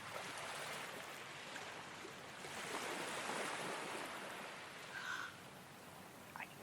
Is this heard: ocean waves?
yes